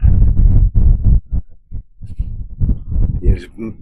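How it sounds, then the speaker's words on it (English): Heavy wind buffeting the microphone outdoors at a Thameside nature park, loud low rumbling gusts in irregular bursts that drop out briefly, then return under faint background sounds. "do you hear that wind? I keep losing me out"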